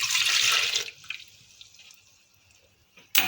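Milk poured into a bowl while making homemade hazelnut chocolate spread: a loud, splashy pour for under a second, then a faint trickle and drips before another brief splash at the end.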